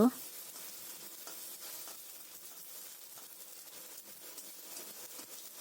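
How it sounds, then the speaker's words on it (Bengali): Chopped, seeded tomato fries in a pan for a vegetarian Bengali aloo dum, giving a soft, continuous close sizzle after a brief clink at the start. "যতক্ষণ না টমেটোর কাঁচা ভাবটা যাচ্ছে ততক্ষণ এভাবে ফ্রাই করে নিচ্ছি"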